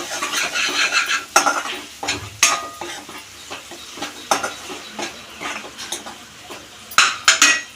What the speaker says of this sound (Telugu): కొంచెం అల్లం వెల్లుల్లి పేస్ట్ ఇల్లమరి పేస్ట్ కొడ పచ్చవసన పోయే వరకు వేయించుకోవాలి